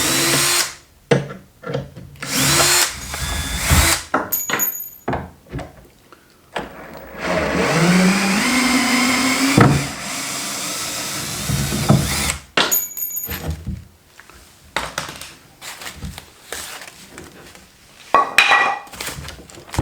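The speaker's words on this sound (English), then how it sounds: "now I have the proper square drill bit" Power drill fitted with a square drill bit driving into a wooden crate holding African taxidermy, loud whirring bursts that start and stop repeatedly, with one long sustained run in the middle and clattering handling between bursts.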